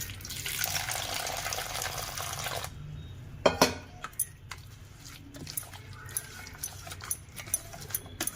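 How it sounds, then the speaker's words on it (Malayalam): Water runs and splashes into a bowl of gram flour batter, a steady stream at first, then scattered clinks and small splashes as it is mixed. "വെള്ളം ഒഴിച്ച് കൊടുക്കാം."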